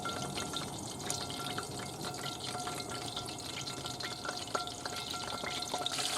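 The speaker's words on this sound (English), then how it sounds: "hope you can hear me over the grease." Chicken frying in hot grease in a pan inside a van kitchen, a steady close crackling sizzle with scattered sharp pops throughout.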